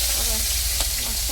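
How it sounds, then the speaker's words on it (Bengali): Rohu fish fries in hot oil in a wok, giving a steady, close sizzling hiss with small crackles, while a voice talks faintly underneath. "কড়াই তেল গরম হয়ে গেছে, আর মাছটা দিয়ে দিচ্ছি।"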